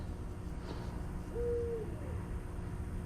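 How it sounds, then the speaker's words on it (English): An owl that is not a barred owl gives one faint, steady hoot from a distance, heard once against a low outdoor rumble with no talking. "I think that's a different kind of owl"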